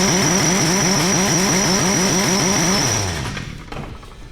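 A 14-section 8.5-foot rotary glue clamp carrier with pneumatic tensioner runs its drive motor, a loud pulsing mechanical drone with rapid rhythmic cycling that slows and fades after about three seconds.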